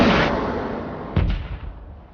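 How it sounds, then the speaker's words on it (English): A sonic boom sound effect: a heavy rumbling blast that fades, then a second sharp double boom that decays into a low, lingering rumble, loud and with no voices. "a series of sonic booms were heard exploding across California and"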